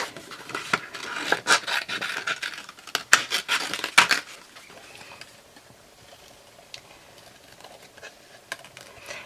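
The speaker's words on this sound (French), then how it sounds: "Est-ce que vous aimez bien découper avec vos ciseaux?" Scissors cutting paper during a card-making craft, a close run of crisp snipping and rasping cuts for about four seconds, then quiet handling with a few faint clicks.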